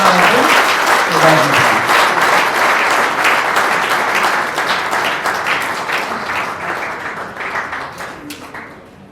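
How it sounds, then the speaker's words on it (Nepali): Sustained applause from a crowd, dense and steady clapping that slowly thins and fades toward the end. "उहाँलाई हामी ताली ठुलो ताली गरेर"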